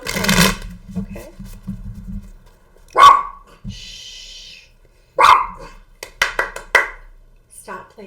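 A pet dog named Rosie gives several sharp barks in short bursts at close range, scattered among a woman's speech and hushing in an indoor room.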